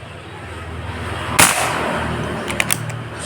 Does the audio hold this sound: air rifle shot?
yes